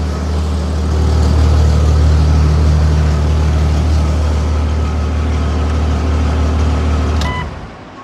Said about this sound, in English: Idling steadily at 800.